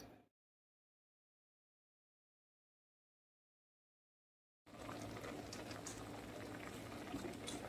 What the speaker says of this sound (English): I'm going to bring this to a boil.